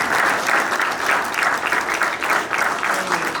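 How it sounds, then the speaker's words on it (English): An audience at a police hero recognition ceremony gives a round of applause, a steady, full clapping that swells and dips slightly in rhythmic waves for a few seconds without talk. "You can get a round of applause."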